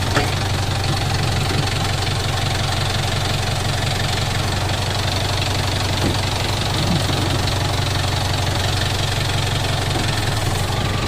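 A tractor diesel engine idles steadily and up close, with a low, even rumble and faint knocking that holds without change throughout.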